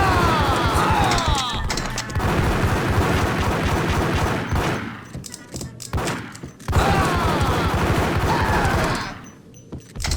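Gunfire in the shooter video game Max Payne: loud, rapid volleys of shots and crashing impacts, broken by two short lulls before the shooting resumes.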